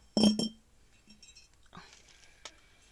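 A couple of bright clinks from a three-litre glass jar close by, followed by soft rustling and a faint later tap, with no talking.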